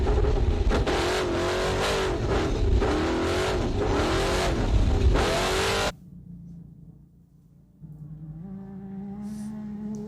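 An off-road race car engine revs hard and loud through a lap, rising and falling with gear changes, then drops away to a quieter engine hum that builds again.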